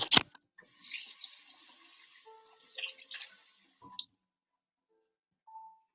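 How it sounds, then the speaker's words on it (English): A kitchen tap runs steadily for about three seconds while hands are rinsed under it. It then shuts off, followed by a few faint clinks and near silence, with no talking. "Make sure you take a moment to rinse your hands off if you haven't already done so."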